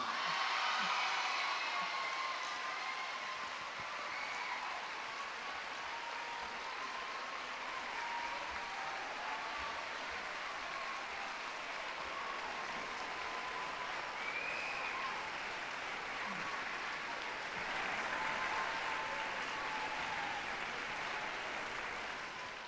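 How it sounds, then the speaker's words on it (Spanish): Sustained audience applause for a prize-winning children's band at a Galician band contest results announcement, steady and fairly distant throughout, with faint voices mixed in. "un fuerte aplauso para la banda que obtiene el segundo premio"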